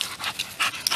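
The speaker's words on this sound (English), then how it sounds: "Can you guys hear that dog in the background?" A dog pants in the background with quick, breathy, rhythmic puffs, about five bursts in close succession, fairly near and with no talk over it.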